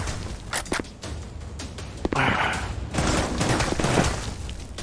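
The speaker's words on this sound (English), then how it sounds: "Oh, I'm already being shot." Gunfire in a VR shooter video game comes as a burst of shots and booms over a busy, dense mix of game sounds, loud and close.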